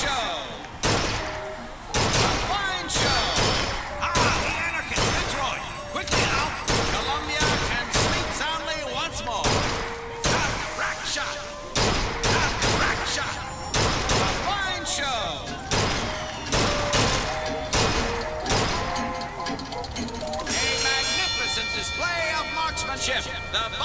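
Gunfire from Bioshock Infinite weapons, a long run of loud, sharp shots in quick bursts and single cracks with a few brief pauses, and a voice talking in between.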